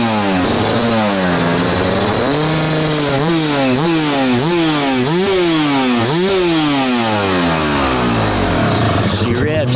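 Yamaha YZ250 two-stroke dirt bike engine revving hard near the mic, its pitch sweeping up and down in repeated sharp blips, then dropping back toward idle at the end.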